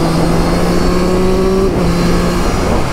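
A 2023 Triumph Street Triple 765 RS motorcycle, not running quite right, gives a loud, steady engine drone, its tone dropping sharply at one point as with a gear change, then carrying on alone.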